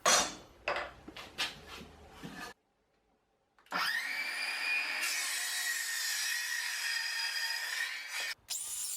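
Wood for a garden bench repair is cut to length: a few sharp scraping strokes, a brief silence, then a sustained, loud, high whining cut running for several seconds up close.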